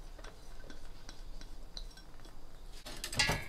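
Chopsticks stirring a pumpkin, longan and mantou dough mixture in a bowl, giving quiet, irregular clinks and scrapes with a brief louder clatter near the end.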